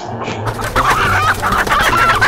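A chicken in the video game Manok na Pula clucks several times in quick succession, close and clear, with a faint electronic hum beneath.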